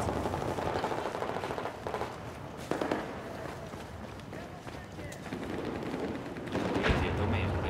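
Gunfire in Battlefield 4 multiplayer, heard as repeated sharp bursts and rattling shots over a busy battlefield din, with a voice talking throughout.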